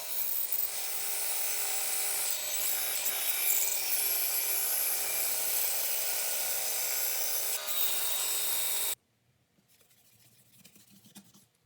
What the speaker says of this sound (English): then cut it out with my bandsaw